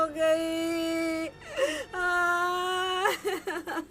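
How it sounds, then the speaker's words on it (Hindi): A woman crying and whimpering, long sustained wailing tones broken by short gasping sobs, close and fairly loud. "जमीला बाजी के यहाँ से रोने की आवाज आ रही है"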